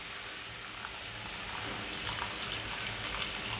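Hot water being poured into a pan of spicy shev bhaji gravy makes a soft, continuous liquid splash and hiss, quiet and steady with no voices.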